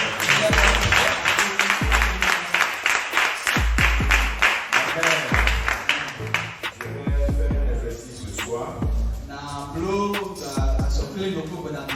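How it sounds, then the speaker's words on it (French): A church congregation claps rhythmically and steadily along with music and a thumping bass beat; the clapping is loud and sustained, then becomes looser toward the end. "Alors il acclame très fort"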